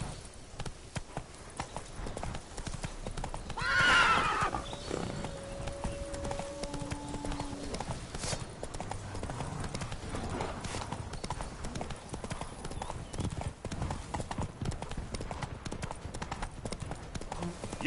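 Roach, a horse in a video game, gallops with steady rapid clip-clop hoofbeats throughout and lets out a brief neigh near the start, loud and close over a busy game soundscape.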